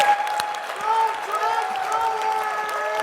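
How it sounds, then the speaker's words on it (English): Audience applause with cheering for a panel at a closing plenary session of a conference, a broad wash of clapping under a sustained tonal sound that could be voices or music. "Just enormous applause for all of them."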